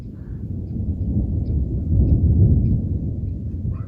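Low, heavy rumbling of thunder rolls continuously, swelling slightly in the middle before easing off, with no voices.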